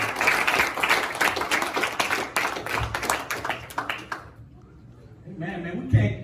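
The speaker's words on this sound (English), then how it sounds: "we can't continue to stop clapping for God. Y'all let's keep clapping" A church congregation claps together during a ministry service, a dense, steady patter of many hands that thins out briefly before picking back up near the end.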